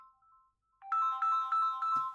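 A mobile phone ringtone plays a bright, repeating electronic melody, rising in loudness after a faint opening tone, with a short rustle near the end.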